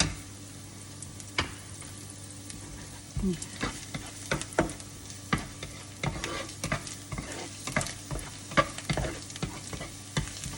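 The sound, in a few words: stir-frying wild garlic with fresh shrimp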